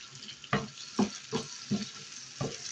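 Alliya fries in hot oil with green chillies in a pan, a faint steady sizzle broken by five stirring scrapes at roughly even intervals, with no voices.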